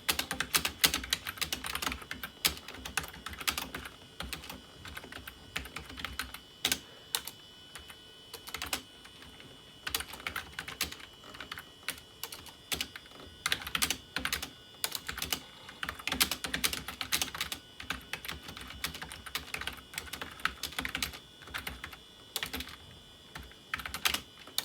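Someone types at length on the Apple iMac G3's first USB keyboard, with fast bursts of plastic key clicks broken by short pauses, close and fairly quiet, with no speech.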